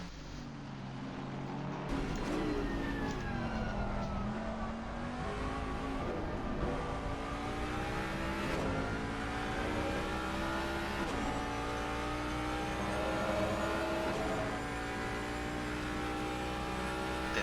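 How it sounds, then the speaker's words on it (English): A Ford Mustang race car accelerates hard during an endurance race at Silverstone, its loud engine note climbing through rising, sweeping pitches with overlapping engine roar from other cars nearby; no one talks. "Mustang accelerating so fast"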